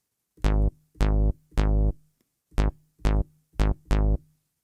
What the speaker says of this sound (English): The rhythm of the bass line sounds like this.